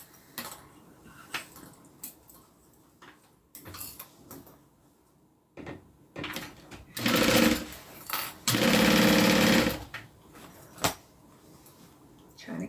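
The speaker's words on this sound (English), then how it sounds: "now I'm going to sew it" A sewing machine stitches through two layers of cotton in two loud, steady runs of a few seconds each, set between quieter handling clicks and knocks close by.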